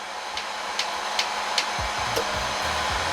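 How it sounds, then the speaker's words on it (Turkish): A powerful hair dryer runs steadily on pure sine inverter UPS power, a continuous loud whooshing blow with faint periodic ticks over the steady airflow. "Saç kurutma makinesinin sesini duyuyoruz."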